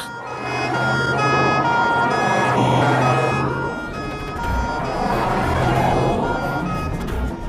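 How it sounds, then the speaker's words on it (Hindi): An ambulance siren wails loudly and nearby in a busy street scene, its rising and falling tones repeating over traffic rumble and background music. "एम्बुलेंस आई है।"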